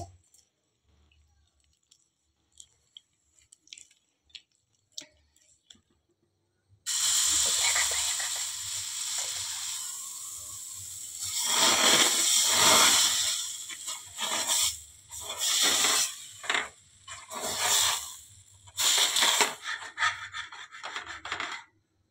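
Hot water poured into a pot while cooking biulir dal for sarucakli: a steady, loud rushing hiss that begins abruptly after near silence, then breaks into uneven surges and gurgles.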